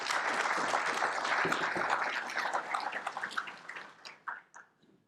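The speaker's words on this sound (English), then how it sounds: "Right away, there's one obvious comment that you're actually able to have applause" A conference audience applauding in a hotel venue, a full burst of clapping from many hands that thins into a few scattered claps and fades out toward the end.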